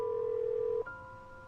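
A telephone handset gives a steady dial tone that cuts off partway through, followed by a fainter, higher electronic tone as the number is dialed, with no voices.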